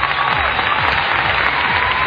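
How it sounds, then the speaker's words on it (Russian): Steady, dense applause from a large audience at a Kazakhstan KVN league comedy contest, loud and continuous throughout without a break. "Аплодисменты."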